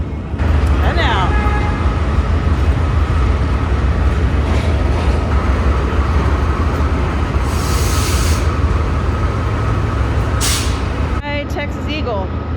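Amtrak Texas Eagle passenger train running between St. Louis and Chicago, a steady loud rumble of wheels and motion throughout, with brief hissing bursts and voices talking briefly over it.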